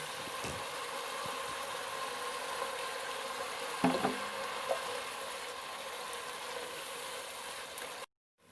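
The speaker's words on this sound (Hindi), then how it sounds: "अब इसमें मैं थोड़ा थोड़ा दही डालकर मसाले को अच्छी तरह भून लूँगी।" Masala fried with spoonfuls of yogurt in a pan for dal makhani, a steady close sizzle with a couple of brief scraping stirs partway through, then a sudden cutoff at the end.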